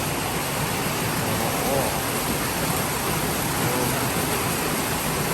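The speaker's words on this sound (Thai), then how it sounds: "ฝนตกหนักมาก ตกอย่างไม่ลืมหูลืมตาเลยครับ" Heavy rain pouring down on a road in the late afternoon, a dense, constant hiss and rush of falling water filling the scene evenly without letup.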